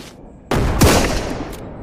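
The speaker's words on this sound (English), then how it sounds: "I accidentally shot something." A single sharp sniper rifle shot in the SurrounDead video game, loud and close, with a brief echoing tail after a quieter lead-in.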